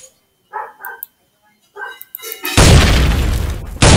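Loud, close explosions in a military video game, two sudden broadband blasts with a roaring tail, following a few short sounds that resemble barks or voices.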